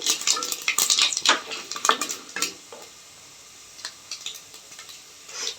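Chana dal and urad dal go into hot tempering oil with cumin, bringing a burst of crackling sizzle and spoon scrapes against the pan that eases to a quieter fizz, then returns briefly with more stirring.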